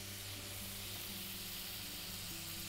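Onions sautéing in a pan while Tamil home-style dishes are cooked, a steady, fairly loud sizzle and frying hiss that runs unbroken throughout with no voices.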